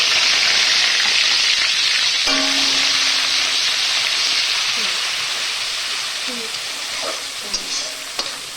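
Onion paste fries in hot oil with garam masala while being stirred, a loud, constant sizzle with scraping spoon strokes against the pan, gradually easing slightly toward the end.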